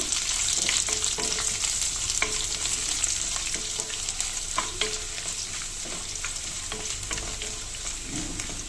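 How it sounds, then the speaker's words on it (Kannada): Crushed dried red chillies and garlic fry in a pan, a constant close sizzle broken by repeated scraping and tapping from a spatula stirring through the whole stretch. "ಒಂದೆರಡು ಒಣಮೆಣ್ಸಿನ್ಕಾಯಿ ಜಜ್ಜಿಟ್ಕೊಂಡಿರ್ತೀವಲ್ಲ ಆ ಬೆಳ್ಳುಳ್ಳಿ ಹಾಕೊಂಡು ಚೆನ್ನಾಗಿ ಫ್ರೈ ಮಾಡ್ಕೋಬೇಕು"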